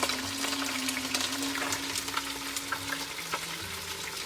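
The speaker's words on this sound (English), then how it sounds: "Throwing our onions in. You can hear them cooking" Onions and mushrooms frying in olive oil in a pan, a steady close sizzle with crackling pops and occasional stirring scrapes, no voices.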